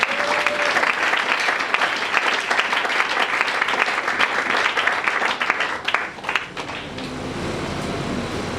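A church congregation applauds in a steady, loud wash of clapping that thins and fades near the end, leaving a quieter room tone with a faint hum.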